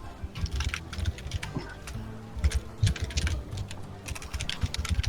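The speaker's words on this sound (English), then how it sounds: "Sorry, I'm just typing all of this down." Fingers type rapidly on a computer keyboard, a dense, irregular run of close, crisp key clicks with brief pauses, during a tabletop role-playing game session.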